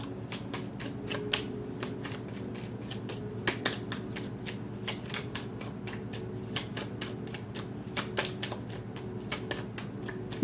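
Tarot cards are shuffled and drawn close by, a steady run of crisp rapid riffles and snapping flicks continuing throughout with no talking.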